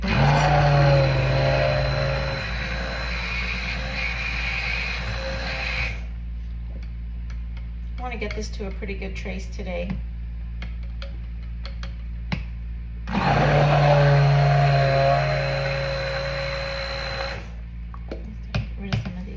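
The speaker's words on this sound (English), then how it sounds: "So I'm going to get my loud stick blender" A loud stick blender whirs in two long bursts while mixing lye water into oils for lavender soap, a pause between them where a person speaks close by.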